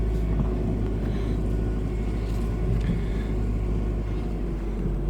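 Toyota MR2 moving in reverse after a crank-and-start diagnosis: a steady low engine rumble and drone holds throughout, close and even, with no clear revving.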